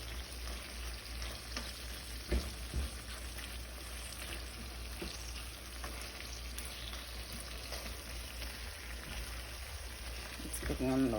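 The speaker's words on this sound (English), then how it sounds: "that's my spinach, my, it's cooking on low heat" Spinach cooks on low heat in a frying pan with a soft, steady sizzle. Faint clicks and stirring sounds come through, and a slightly louder rustle rises at the very end.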